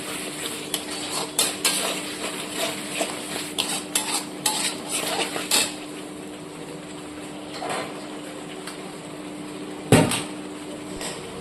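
Fried prawns are tossed in masala in a pan, with a soft sizzle under a run of rhythmic spatula scrapes and clanks against the pan, then quieter frying and one sharp knock near the end.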